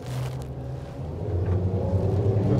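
A 27-foot North River boat with twin Mercury 225 outboards accelerates to cruise, a low engine rumble and drone swelling steadily louder and closer as the boat comes up on plane.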